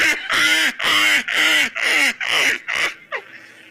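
A comedian imitates a chicken-like laugh, a run of about seven loud, evenly spaced cackling bursts, each rising then dropping, close and alone, ending with a short trailing squawk.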